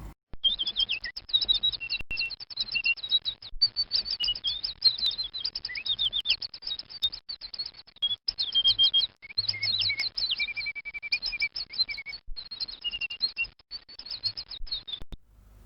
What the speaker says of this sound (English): Parrots are intelligent birds.